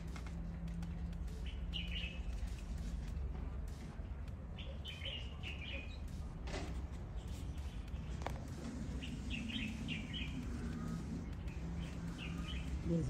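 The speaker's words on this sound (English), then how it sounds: "These bird songs are so lovely to me." Birds sing in scattered, faint chirps and short trills at a distance over a steady low background hum, as heard outdoors in The Gambia.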